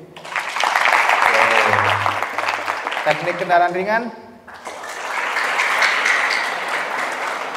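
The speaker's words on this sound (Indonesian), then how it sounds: "Tepuk tangannya jurusan mesin." Vocational high school students applaud during a bearing seminar in Jakarta, a moderate burst of clapping at the start, then someone speaks over thinning claps before the applause picks up again.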